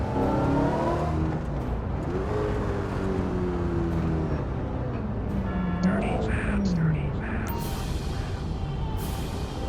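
A '21 Dodge Challenger SRT Hellcat Redeye engine in a driving game drones steadily and loudly, its pitch rising and falling as it revs and shifts, with a voice talking over it.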